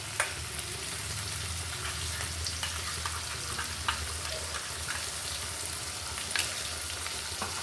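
Mustard paste hits chunky tomatoes in a hot pan, and a steady close sizzle of frying carries on with small crackles and pops throughout.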